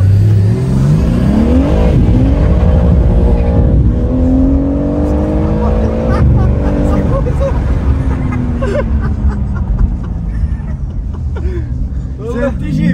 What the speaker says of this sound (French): le turbo il souffle, tu vois, il souffle tout le temps en fait